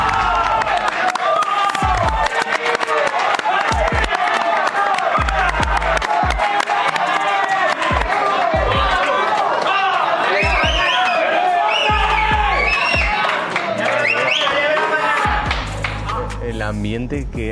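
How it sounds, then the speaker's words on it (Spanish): A large crowd at a boxing weigh-in event cheers, whoops and applauds continuously and loudly, with claps punctuating the roar throughout. "Pues un aplauso para Mariana y Plex"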